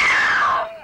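A woman in the horror film The Devil's Rain lets out one loud, high scream that slides downward in pitch and fades away within a second.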